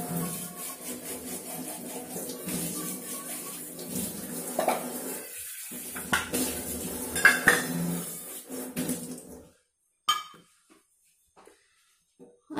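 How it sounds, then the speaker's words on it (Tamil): Oily steel vessels being washed by hand with Vim dishwashing gel: steady clatter and scraping of pots and metal dishes with running water, close and continuous for about nine seconds, then a few isolated clinks after a pause. "லைட்டா விம் ஜெல் விட்டு வாஷ் பண்ணிக்கலாங்க லைட்டா அலசிக்கிறேன்"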